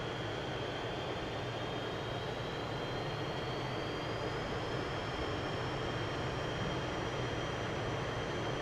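Steady propeller fighter engine drone from the IL-2 Korea flight game, held loud and unbroken through the takeoff run, with a faint tone slowly rising in pitch as throttle increases.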